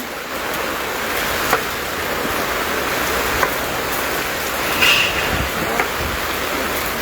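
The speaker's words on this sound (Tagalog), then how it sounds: "lakas kaya ng ulan dito" Heavy rain falls steadily on a surface near a house, a dense continuous hiss with a few sharper drops, with no talking.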